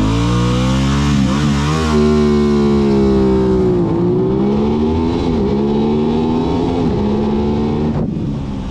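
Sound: Aprilia RS 660 motorcycle engine revving and accelerating

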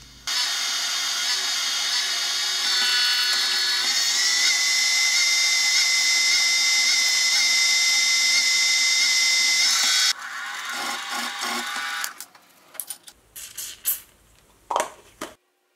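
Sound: drilling and tapping a hole in steel

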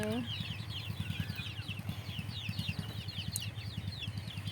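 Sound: domestic chickens clucking

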